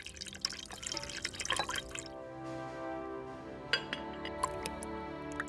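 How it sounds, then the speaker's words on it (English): Water trickling and dripping around the mouth of a pickle jar to seal it, soft close-up drips and light clinks against glass at first, then a few sparse drops over a quiet background. "Water is added around the mouth of the jar to seal it against air and bacteria."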